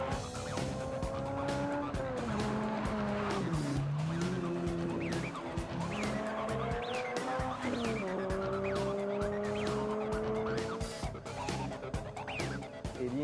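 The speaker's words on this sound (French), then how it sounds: "on a le plaisir de faire l'essai d'un véhicule de performance," A 2008 Lotus Elise sports car drives hard, its tires squealing in sustained, wavering tones over a steady engine note, fairly distant and continuous, with no voices.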